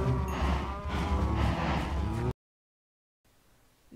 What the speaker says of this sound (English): after that I feed my cows